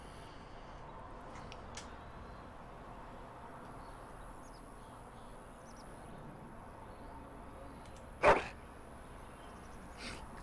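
In the Dragon Age: Origins video game, a Mabari war dog gives a single short, happy bark, sudden and clear against a quiet, faint ambient background.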